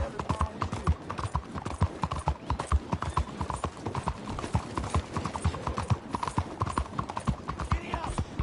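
Horse hooves clip-clop steadily in Red Dead Redemption 2, a quick, even rhythm of close, crisp hoof strikes running the whole time, with a voice talking over them.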